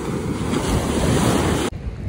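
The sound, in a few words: ocean waves at a beach in Bali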